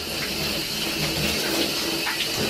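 Steady broadband rush of running shower water, continuous and fairly close, with no voices.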